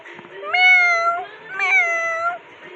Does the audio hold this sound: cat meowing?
yes